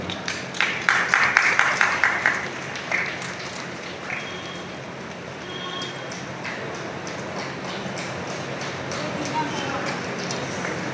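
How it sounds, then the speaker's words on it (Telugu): Hands clap briefly and rhythmically at an engagement ceremony as the couple exchange garlands, fading after a few seconds into a busy background of murmuring guests. "వారి దండలు మార్చుకుంటుండగా మనం వారిని అభినందిస్తూ చప్పట్లు కొడుతూ మనం ముందుకెళ్దాం"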